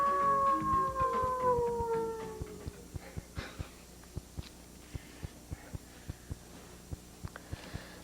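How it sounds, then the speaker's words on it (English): Several dogs howl in long, wavering, sliding tones during a late-1990s TV talk show segment. The howling fades after about two seconds, and a steady, regular thumping beat continues alone. "I'm talking about actual canine crooners"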